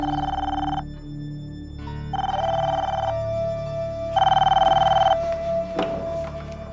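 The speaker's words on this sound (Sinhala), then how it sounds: "අන්න කෝල් එක." A telephone rings indoors in three long electronic bursts with short gaps between them, loud and close, as a call comes in at home and no one speaks over it.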